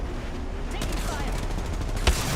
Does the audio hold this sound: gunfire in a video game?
yes